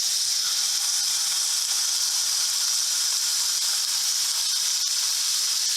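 Bacon-wrapped venison backstrap sears gently in a pan over moderate heat, giving a steady, even sizzling hiss that holds without a break and without any voices.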